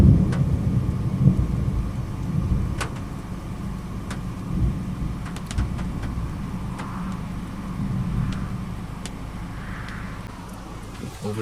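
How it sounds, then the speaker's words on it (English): Deep, loud rumbling thunder from cloud-to-ground lightning about 5 kilometers away in a Florida storm rolls on continuously, with a low heavy roar throughout and scattered sharper crackles on top. "because of that deep, loud thunder"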